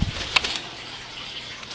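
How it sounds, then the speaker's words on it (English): A pet bird, likely a pigeon or dove, gives a brief soft call near the start, close by over low room noise, then the scene stays quiet. "she's probably going to scare the bird"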